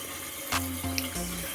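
Toilet tank refilling with water after a flush, during a repair to stop vibration behind the wall: a steady close hiss of running water with low humming tones and a brief thump partway through.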